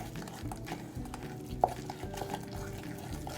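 Pumpkin protein waffle batter being stirred in a bowl, a soft, steady wet mixing sound with faint scraping and one brief clink against the dish, close and quiet, no voices.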